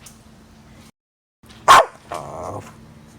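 A dog eager to play ball lets out one loud, sharp bark close by, followed by a short rough growling grumble, with quiet background between.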